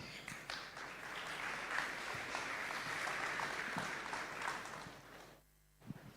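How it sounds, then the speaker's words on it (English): An audience at the FOSSASIA Summit 2025 keynotes applauds the next speakers with sustained, fairly soft clapping heard from a distance. The clapping holds steady for about five seconds, then drops away to near silence before a brief thump. "So a round of applause for our next speakers."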